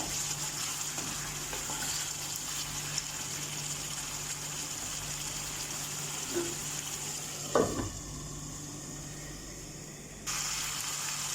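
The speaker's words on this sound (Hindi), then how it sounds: "अब इसे भुनना है हमें" Chicken and masala frying for chicken kala bhuna, an even continuous sizzle with a brief clatter of stirring partway through, close and fairly quiet, with no talking.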